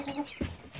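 Laying hens and chicks in a shared henhouse give soft clucks and a brief throaty squawk at close range, with a busy low murmur of birds around.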